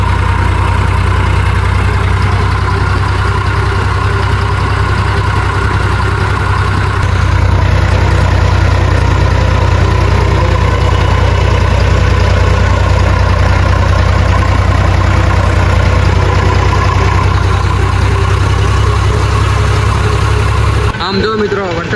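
A tractor engine runs steadily at a low, throbbing idle for the whole stretch, loud and near, its rumble shifting slightly partway through as it carries on in a village on a rainy day.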